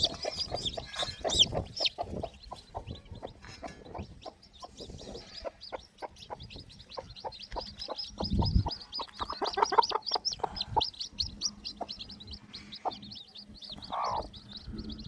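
A hen clucks near newly hatched chicks, whose rapid high peeping runs continuously over her low, intermittent clucks, close and fairly quiet in a farm setting.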